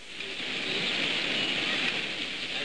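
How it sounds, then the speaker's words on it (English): Torrential rain pours down in a dense, steady hiss, loud and continuous throughout, with no distinct thunderclap standing out and no voices. "they send hurricanes and torrential rains beating down against it to destroy, in the midst of thunder and lightning"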